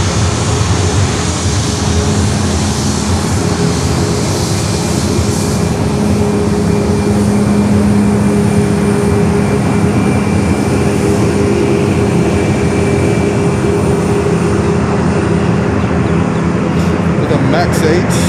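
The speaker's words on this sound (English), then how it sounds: "American Airlines coming up here," An American Airlines Boeing 737 jet airliner at Fort Lauderdale airport gives off a loud, continuous engine roar with a steady tonal hum, and a voice talks over it.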